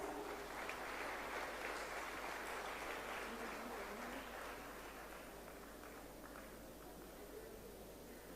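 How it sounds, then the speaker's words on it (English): A seated audience at an international summit applauds, a faint, steady patter of many hands that fades slightly toward the end. "Please give a big round of applause."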